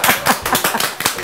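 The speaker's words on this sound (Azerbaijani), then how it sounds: "Qızlar, gəlin bir Yusifə alqışlayaq" A small group of women applauds a young cook in a studio kitchen, with a brief burst of several hands clapping in an uneven rhythm close by.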